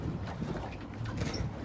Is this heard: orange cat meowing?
no